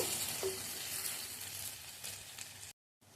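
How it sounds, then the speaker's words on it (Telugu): Ridge gourd and green chickpea masala fries in a covered pan, giving a steady broadband sizzle that continues throughout, breaks off for a moment and then resumes. "మళ్ళీ మూత పెట్టుకొని కాసేపు మగ్గబెట్టుకోండి."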